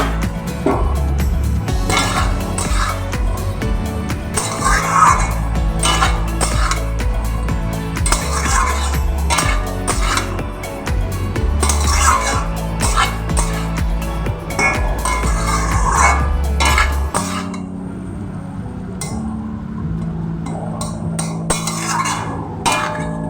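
Fried potatoes go into a pan of Bengali egg curry, with metal clinks and scraping of utensils against the pan over steady background music.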